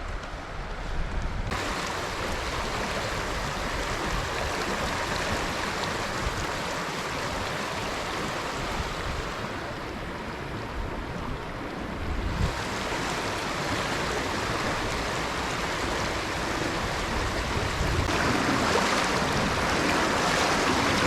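Cold winter creek water rushes and splashes steadily, a continuous broadband roar close by that swells slightly in places, with no talking.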